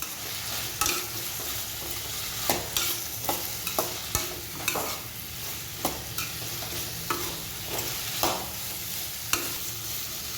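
Spoon stirring red chili powder, turmeric and coriander-cumin powder into sambar in a pan, a steady run of scraping clinks over a low background sizzle, close and moderately loud with no talking.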